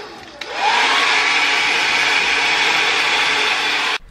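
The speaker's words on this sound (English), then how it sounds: "I'm using my little blow dryer just to kind of speed up the process." A small blow dryer blasts continuously on a masking-tape geometric canvas painting, switching on with a rising whine, holding a loud steady whoosh, then cutting off abruptly.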